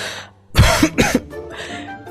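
A man coughs loudly and close, a short harsh burst of two or three rasping coughs, followed by a brief throaty trailing sound.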